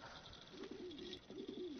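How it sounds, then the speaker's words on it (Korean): Pigeon cooing in soft repeated phrases, two rolling coo sequences heard close against a faint steady background hiss. "제임스는 만약 자신이 돌아오지 못할 경우를 걱정하며 그 새가 이 데이터를 실험실로 가져다 주기를 바랐습니다"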